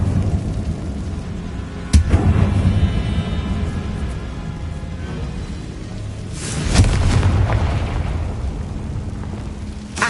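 Confringo blasting spell in Hogwarts Legacy, two loud explosive booms a few seconds apart, each with a sharp onset and rumbling tail, over a steady ambient background.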